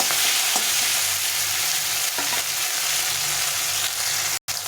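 Chopped tomatoes and chillies fry in a pan with a loud, dense, unbroken sizzle, close and steady throughout, with a few faint stirring scrapes.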